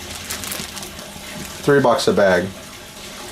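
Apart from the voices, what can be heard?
bag water being dumped into an outdoor tub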